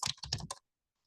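Close, loud clatter of typing on a computer keyboard, a rapid run of key clicks in several bursts over about half a second, then silence.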